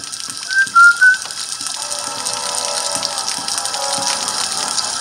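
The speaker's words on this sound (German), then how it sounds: "Nur kurz gepfiffen." Luigi gives a short whistle of three quick rising notes in Luigi's Mansion 2, followed by a steady background hiss and murmur from the game.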